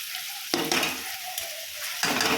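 Tomato with turmeric, chili, cumin and coriander powders fries in a pan, giving a steady soft sizzle broken by bursts of louder scraping as a spoon stirs, heard up close.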